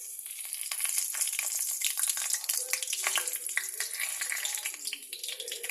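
Whole cumin seeds, a bay leaf and a dried chilli sizzle in hot oil, a bright, crackling hiss close up with spitting pops throughout and no voices.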